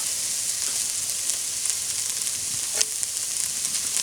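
Vegetables sautéing in a pan as the base for a tamale pie, giving a steady, close broadband sizzle with no talk and one brief utensil tick near the end.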